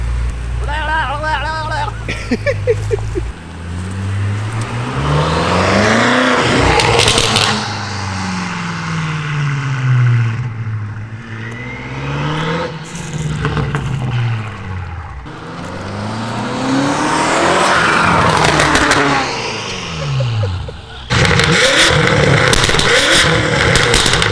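A tuned BMW F10 M5 with an FI exhaust and MHD tune is driven hard, its engine rising and falling through loud repeated revs and shifts, with roaring exhaust sweeps up close, and a voice is briefly heard at the start.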